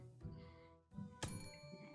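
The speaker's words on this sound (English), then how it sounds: "right, you got a bell." A bell sound effect rings inside an online courtroom party game, a single bright metallic strike with a ringing decay, fairly loud above a low background murmur.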